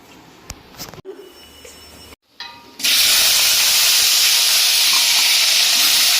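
Potatoes dropped into hot oil in a wok burst into a loud, steady sizzle after a few seconds of quieter kitchen clatter, with the frying hiss staying dense and continuous to the end.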